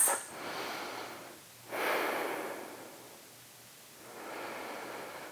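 A couple of deep breaths during postnatal yoga, soft airy inhales and exhales close to the mic in slow alternation with quiet pauses between.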